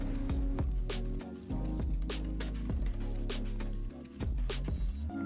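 Ube cake batter with oil and water is whisked in a bowl, producing repeated wet squishing strokes with sharp clinks against the bowl, close and fairly loud.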